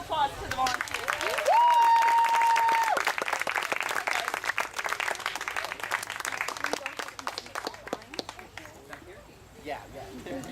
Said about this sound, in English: give a round of applause to the volunteers